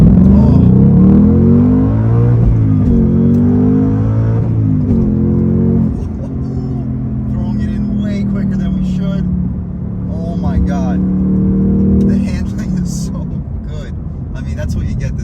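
A 2022 Ford Mustang Mach-1 with the handling pack accelerates hard from a rolling start in first gear, its loud engine rising in pitch through a strong rev before an upshift, recorded from inside the car with a voice talking over it.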